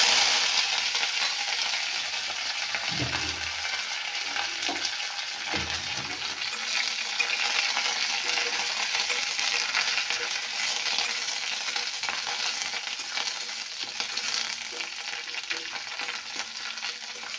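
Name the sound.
curry leaves sizzling in hot mustard oil in a wok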